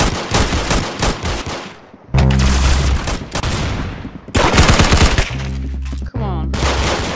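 Rapid automatic gunfire from the Roblox gun game, played as a Roblox shooter, rattles loud and close in several bursts separated by brief pauses, with heavy booming thuds under some volleys.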